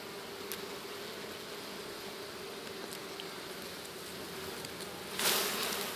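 Honey bees buzz steadily inside a strong, full hive box during a raw honey harvest, a dense continuous drone close by that swells slightly louder near the end.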